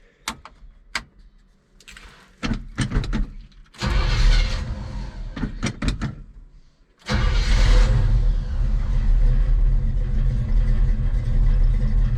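A 1972 Chevrolet El Camino engine, freshly given a valve adjustment, cranks in short bursts with starter whirs, then catches at about seven seconds and settles into a loud, steady idle up close.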